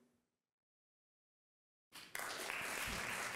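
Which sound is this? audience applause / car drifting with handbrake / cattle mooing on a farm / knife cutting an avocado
audience applause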